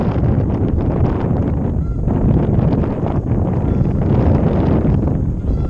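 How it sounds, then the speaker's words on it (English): Wind buffeting a microphone outdoors while fishing for trout, a loud continuous low rumbling roar that barely changes throughout. "Oh, come on, wind."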